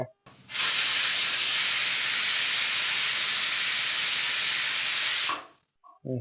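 A pressure cooker cooking rice lets out one long, steady, loud steam whistle lasting about five seconds, starting and stopping abruptly, with brief faint clatter just after it.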